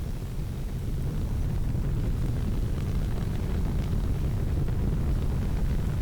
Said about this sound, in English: Now let's go ahead and increase our thrust